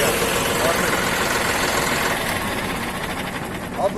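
A John Deere 5405 4x4 tractor with a CRDI diesel engine idles in neutral while parked, giving a steady, close, even chug that holds without revving for several seconds.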